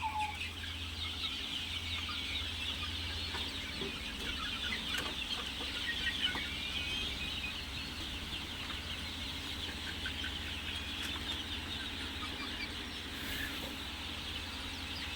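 Leghorn chicks, all young cockerels about 50 days old, cluck and cheep steadily on a poultry farm, a dense continuous flock chatter with a low background hum and no talking.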